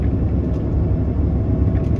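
A car labours up a snowy road in a snowstorm, a steady low engine rumble and road noise droning close by with no voices.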